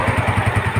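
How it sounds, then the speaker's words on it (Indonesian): A motorcycle engine idles during warm-up after a valve adjustment, a close, steady rhythmic thumping putter with even pulses and no talk over it. "ini motornya kenapa saya panasin, teman-teman?"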